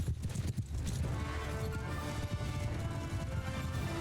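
Horses galloping in the video game Mount & Blade II: Bannerlord during a cavalry chase, a dense, steady drumming of hooves under a loud, busy mix of battle noise with no pause throughout.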